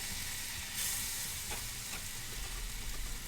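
Melted margarine sizzles and pops steadily in a hot pan, a continuous close frying hiss with a few sharper crackles scattered through.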